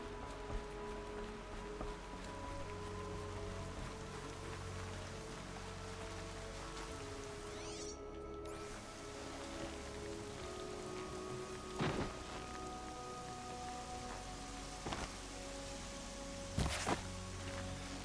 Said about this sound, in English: Rain always comes in very quickly around here.